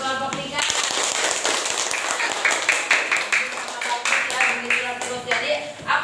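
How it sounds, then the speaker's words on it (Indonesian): A classroom of students clapping for group 3, a burst of uneven, bright handclaps lasting several seconds, with voices mixed in over the clapping. "Tepuk tangan buat kelompok 3."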